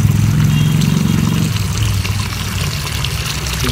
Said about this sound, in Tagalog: Alagyan natin tubig.